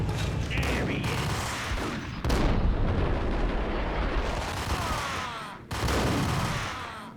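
A grenade goes off in a first-person shooter, a loud broadband blast that starts abruptly and rolls on as a long, heavy rumble, with a second sharp burst near the end, the fight noise continuing loud and close.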